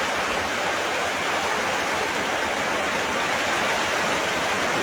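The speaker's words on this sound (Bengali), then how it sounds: "আমাদের এদিকে বৃষ্টি হচ্ছে প্রচুর।" Heavy rain pouring down steadily, a dense uniform hiss with no breaks and no voices, close and loud throughout.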